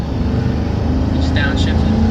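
Vehicle with a Ford 4R75E automatic transmission downshifting, the engine note rising steadily as it revs under a low constant drone from inside the cab, with a person talking over it.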